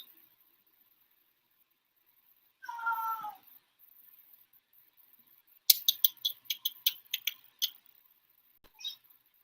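An indoor cat wanting a closed door opened gives one drawn-out meow, then after a pause a quick burst of sharp scratching or clicking taps against the door, followed by a brief short call, all close and fairly quiet.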